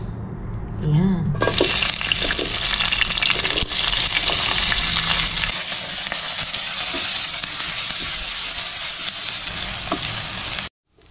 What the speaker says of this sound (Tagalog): pagmagisa na natin yung ating sibuyas at luya